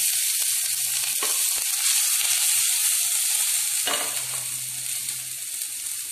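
Garlic and then onion frying in hot oil in a pan for paneer fried rice, giving a steady close sizzle broken by a few stirring scrapes, with no talk.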